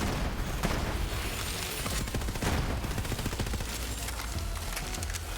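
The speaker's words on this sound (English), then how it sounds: "You can hear my fire rate just drop off the chart, right?" Rapid, continuous gunfire from Zane's weapons in Borderlands 3, a dense, loud barrage of overlapping shots and bursts that runs without pause for the whole stretch.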